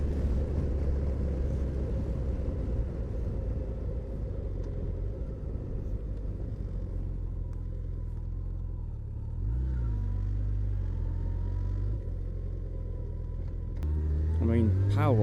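Yamaha FJR 1300 motorcycle engine drones loudly and steadily under wind noise while riding, then the revs climb sharply as it accelerates at the end.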